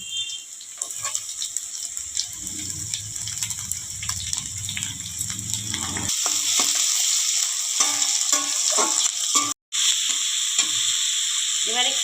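Onions and capsicum sizzling in a pan as they are stirred, a loud steady fry with scraping stirs and clatter throughout, briefly cutting out near the end.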